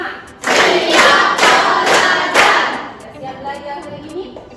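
A class of students claps in unison through a set rhythm, several loud, close bursts of hand claps in quick succession before tapering off into quieter scattered claps and murmuring voices.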